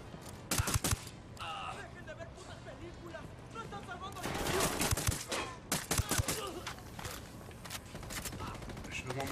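Rapid bursts of gunfire from the Ghost Recon Wildlands video game, sharp repeated shots in clusters with spells of heavier fire, mixed with game sounds and a player talking over it.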